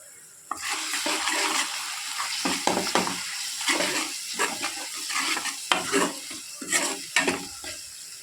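Ginger garlic paste sputters and sizzles in a hot pan for a tomato egg curry, with loud bursts of frying and repeated stirring scrapes close up, no speech.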